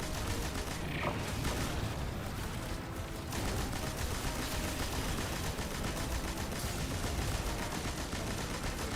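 Sustained rapid weapon fire from the Destiny 2 video game, a dense continuous barrage of shots running for the whole stretch at steady loudness with no talking.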